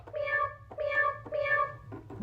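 An electronic toy cat plays three identical synthetic meows in steady succession, close and clear, with a short extra chirp at the end and no speech.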